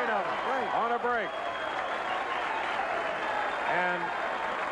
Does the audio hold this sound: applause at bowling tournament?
yes